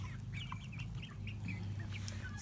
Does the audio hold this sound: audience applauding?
no